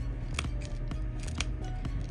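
Scissors snip through a sponge for a homemade popsicle squishy, a series of crisp, close cuts spaced in a loose rhythm over a steady background hum, with no talking.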